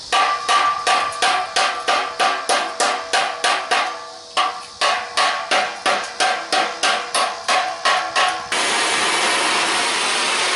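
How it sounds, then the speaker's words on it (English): A wrench taps again and again on a rusty muffler pipe on a big truck, giving sharp metallic knocks in quick steady bursts. A short pause falls in the middle, and a steady hiss takes over at the end, loud and close. "Tapping this with a wrench to"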